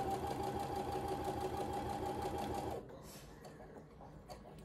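A sewing machine stitches quilt block fabric in a steady, fast whirring run for nearly three seconds, then stops, leaving quiet room noise with a few small clicks.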